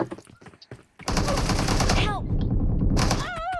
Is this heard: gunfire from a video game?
yes